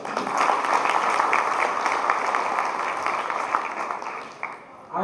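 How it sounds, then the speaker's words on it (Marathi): Dense, sustained applause from an audience at a Marathi felicitation ceremony honouring achievers, a steady wash of many hands clapping that fades slightly toward the end, with no speech over it. "तर त्यांच्याकरता सर्वांनी एका जोरदार टाळ्या वाजवा"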